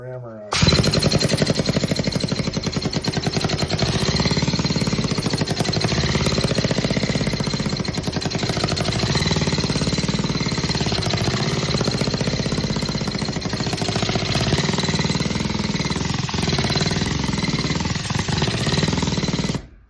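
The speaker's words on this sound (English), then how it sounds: "we'll get the pneumatic rammer out." A pneumatic rammer packs foundry sand into the drag of a mold for a cast iron straight edge, hammering in a fast, loud, continuous rattle for nearly twenty seconds, close to the microphone and with no pause.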